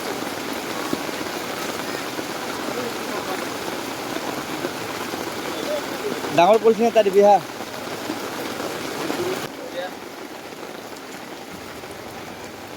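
Rain pouring steadily over an outdoor vegetable market in Lokhra, a dense close hiss of drops on surfaces running throughout, with a brief burst of plastic rustling and a voice speaking over it partway through.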